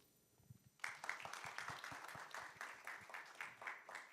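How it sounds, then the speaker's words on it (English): Applause for session speakers at a fiscal policy conference starts abruptly after a quiet moment and continues as steady, moderately distant clapping from a seated audience. "please give them a warm round of applause one more time"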